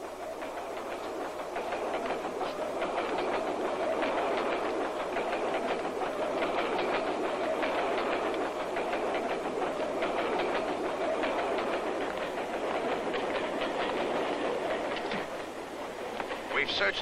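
Inside a moving train, a steady rumbling roar of wheels clattering over the rails runs throughout, with faint rhythmic clicks beneath a constant mid-level drone and no clear voices.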